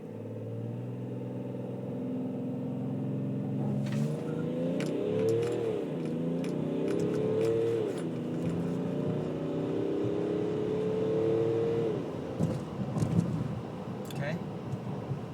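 Tuned 2011 BMW X5 diesel twin turbo accelerating hard from 0 to 60, its engine building in a steady loud drone and rising pitch as it pulls through the gears, with a low rumble throughout.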